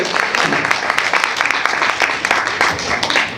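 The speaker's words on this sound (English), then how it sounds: "Big round of applause first." An audience at a Tamil and Maori cultural gathering claps for the vocalists and flautist, a steady, close wash of applause with sharp individual claps throughout.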